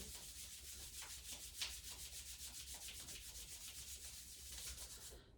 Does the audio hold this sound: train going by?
no